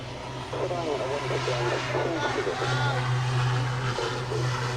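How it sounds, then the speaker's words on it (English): A turboprop aircraft engine drones loudly with a constant low hum at the Waddington Airshow, while people talk indistinctly under it. "It means it's a jet engine with propellers."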